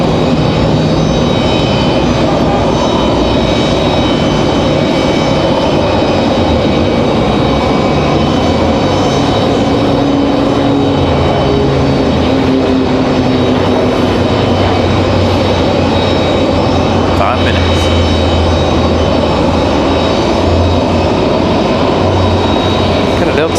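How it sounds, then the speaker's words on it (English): A Beechcraft King Air arrives at Raleigh-Durham airport, its steady engine drone loud and continuous, close enough to dominate, blended with broad airport roar. "We have a Beach King coming in right here."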